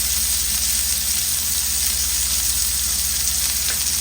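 Loud, steady sizzling and crackling of an onion smash burger frying on a hot stovetop pan, a continuous hiss of fat holding level throughout with no talking.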